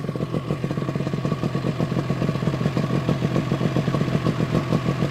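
A 1975 Yamaha RD350 two-stroke six-speed cafe racer idles close by, a loud steady ringing putter with rapid even pulses and a slight rise in pace toward the end.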